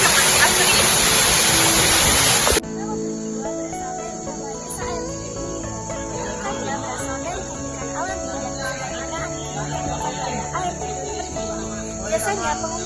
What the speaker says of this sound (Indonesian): Jadi air terjun ini memiliki sekitar 3 meter, namun airnya juga bersih dan dimiliki oleh hutan tropis yang masih asri.